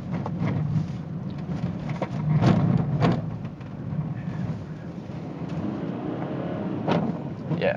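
A 2015 BMW 318d drifts through snow, its engine a low, steady rumble mixed with muffled wind buffeting and a few thumps, heard from inside the car.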